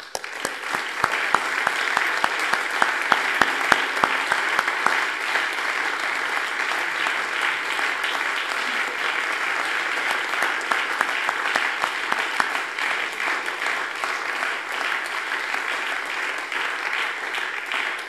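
Sustained applause fills a parliamentary plenary chamber, many hands clapping in a dense, even roar that holds for the whole stretch and eases only slightly near the end.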